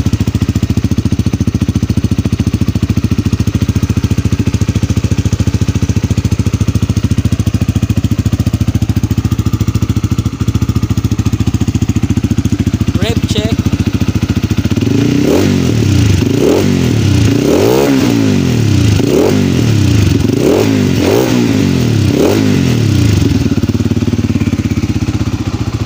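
A Rusi Flame 150X motorcycle engine idles steadily up close, then from about the midpoint is revved repeatedly in a series of sharp, rising bursts that drop back to idle between each.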